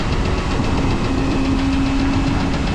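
Loud, steady rumble of a farm tractor engine running during harvest, a continuous close drone with a knocking pulse and a faint whine, no talk.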